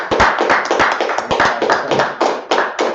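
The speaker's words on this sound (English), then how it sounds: "Clap it up for the class." Close, fairly loud clapping from a small group: uneven, overlapping bursts of hand claps with no voices, continuing for a few seconds.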